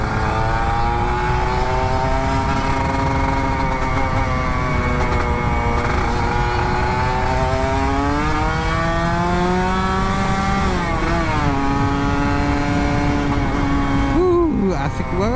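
An old Kawasaki Ninja RR 150 motorcycle engine, freshly serviced, revs steadily with a droning, rising and falling tone, holding loud and close before a sharp throttle blip near the end.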